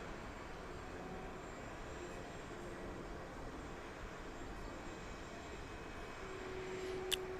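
A jet airliner departs eastward from DFW runway 31 left, a steady broadband roar holding at constant, moderately distant loudness throughout, with no voices.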